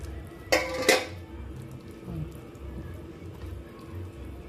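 Banana loaf batter with raisins and oil is mixed in a bowl for a no-bake loaf. Two sharp utensil clinks ring out close together near the start, then a quiet low rustle continues.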